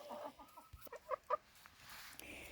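Newly added laying hens cluck quietly in a coop setting, a handful of short, separate clucks with two clearer ones near the middle over a faint background.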